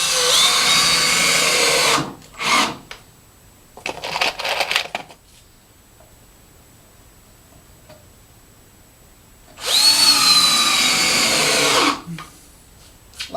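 A power drill drives screws into a cable rack in short bursts, two loud whirring runs of about two seconds each with quieter brief spurts between and a stretch of near silence, heard up close.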